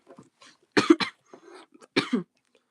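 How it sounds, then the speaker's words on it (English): Someone coughs in a few sharp, close bursts, a double cough and then a single one, between faint, quiet sounds, with no talking. "Sorry again if I'm coughing a lot"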